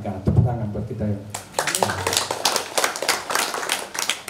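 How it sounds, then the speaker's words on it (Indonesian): Audience clapping at a veterans' reunion gathering, a burst of hands starting partway through and continuing under a speaker's voice. "Tepuk tangan buat kita,"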